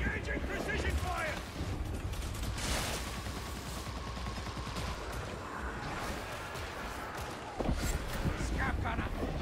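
Precision gunfire in a video game: a steady barrage of shots and mechanical clatter running throughout, with sharper bursts early and late, mixed under game voices and effects.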